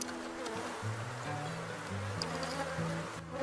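Honeybees at an open beehive during a wax-pulling inspection, a steady close buzzing hum running throughout without a break.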